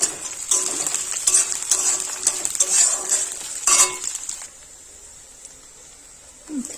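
Onion, chilli and bori (lentil dumplings) fry in hot oil with panch phoron, a steady close sizzle with clinks and scrapes of a spatula, before the frying briefly drops away to near quiet.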